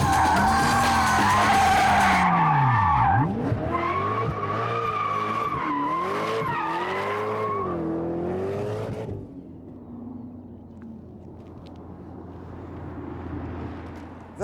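A Koenigsegg CC8S with traction control switched off screeches through a long skid on a test track, the tire squeal warbling and bending in pitch over the engine's roar before fading into a lower rumble.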